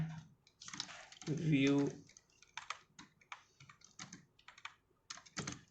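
Computer keyboard typing during ASP.NET web app coding, a run of quick clicky keystrokes in short bursts and single taps, fairly close, alternating with someone speaking Hindi.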